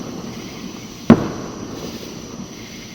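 A single distant firework bang cracks once on the Fourth of July night, echoing briefly over a steady hiss of outdoor night noise with cicadas.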